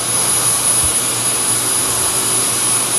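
A Dyson V10 cordless vacuum cleaner with its main cleaner head runs on heavily soiled carpet, giving a loud, steady high-pitched whine with a constant airy roar and no pauses.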